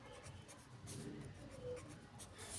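Chalk or marker scratching across a board during a Hindi-language chemistry lesson on zero-order reactions, a steady rubbing scrawl with short strokes, fairly close and quiet, no talk over it.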